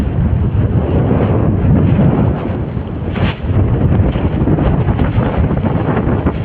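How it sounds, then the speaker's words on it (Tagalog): Strong wind roars and buffets a microphone continuously, loud and broadband, at an overnight fishing spot by the water, with a brief gust swell midway and no voices. "Lakas ng hangin"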